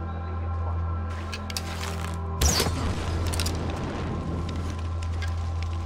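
Heavy explosions in Far Cry 4 gameplay: a sudden loud boom partway through, followed by a rumbling, crackling tail over a constant background hum.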